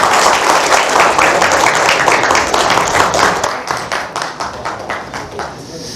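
An audience claps warmly to welcome a muscle-fitness world champion onto a stage, loud dense clapping close by that thins into a few slower, distinct claps over the last couple of seconds.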